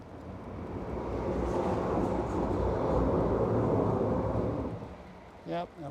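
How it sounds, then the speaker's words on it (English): A train passes overhead while cycling through Eindhoven, heard as a loud, sustained low rumble that swells and holds for several seconds before easing off, with a brief voice near the end. "there's a train passing us above us,"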